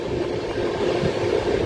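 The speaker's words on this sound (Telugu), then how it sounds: "ప్లాట్ఫామ్ నెంబర్ 4కి అయితే వచ్చింది మన ట్రైన్" The Amaravathi Express pulls into platform 4 at Chirala station with a low, continuous rolling rumble from the wheels and carriages, moderately loud and steady, with no voices.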